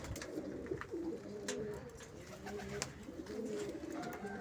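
Pigeons from a Kasuri and Sialkoti cross-breed give soft, repeated cooing calls close by, murmuring continuously over low background noise.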